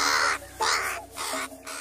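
A crow caws three times in a row, loud and close, each harsh call separated by a short gap.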